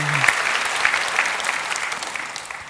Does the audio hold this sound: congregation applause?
yes